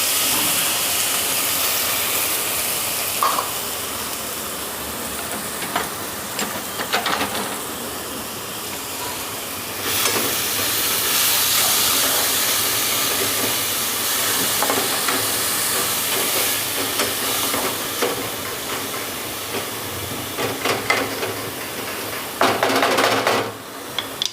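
Onions and capsicum with garlic sizzle in hot oil, a steady loud hiss running the whole time with a few brief clinks of a pan and utensil.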